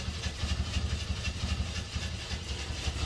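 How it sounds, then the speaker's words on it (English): An old Jeep engine cranking without catching, a continuous rhythmic chugging starter churn with evenly spaced pulses, loud and close with no talking. "It would crank and crank and crank and crank, and nothing would happen."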